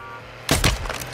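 A pistol gunshot in an akimbo-pistol shooter video game, a sudden loud crack followed by a short burst of further firing and impacts.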